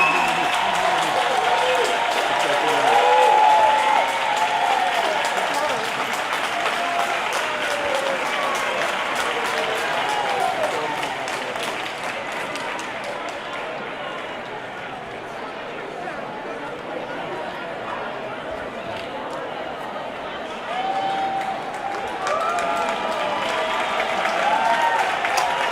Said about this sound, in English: a video of people, the poll workers in Detroit, applauding and cheering as a Republican was led out of there